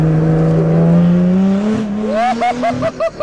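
A Lotus Exige 350 Sport with a V6 engine roars loudly nearby, its pitch climbing steadily through a long pull, then snapping into a series of sharp blips and revs with brief gaps between them.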